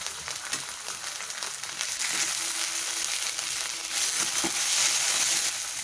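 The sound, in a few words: ginger garlic paste frying in pan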